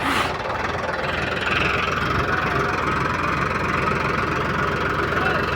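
A loaded tractor stands with its engine idling, a steady low knocking chug close by, with faint background noise.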